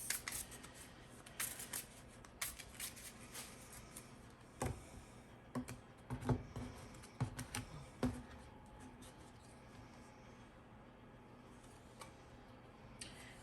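Tarot cards being shuffled by hand in a quiet room, a close series of soft papery riffles and snaps in uneven bursts, busiest in the middle stretch and fading to near silence toward the end.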